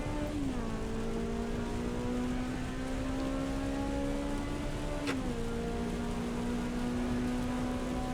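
Steady rain hisses in the Assetto Corsa Evo racing video game over a droning car engine whose pitch dips with two gear changes. No one speaks.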